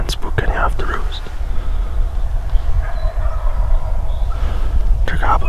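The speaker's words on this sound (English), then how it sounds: "They're gobbling pretty good, so hopefully they're fired up despite the snow." Several wild turkeys gobbling from a distant roost in a spring snowstorm, faint bursts at the start and end under close whispered talk and steady background rumble.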